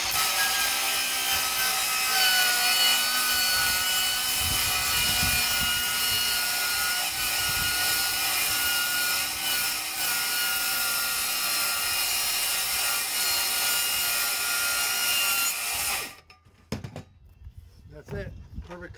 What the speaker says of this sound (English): Same thing with the skill saw. It's just a regular 24 tooth carbide blade